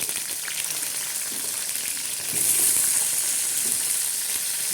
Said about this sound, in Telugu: వట్టి కాయలు వేయిస్తానండి నేను.